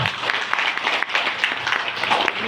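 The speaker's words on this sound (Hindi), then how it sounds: "एक जोरदार ताली बजाएंगे तो बताएंगे।" An audience at a marketing business presentation in India claps steadily throughout, a dense, even wash of applause with no pause.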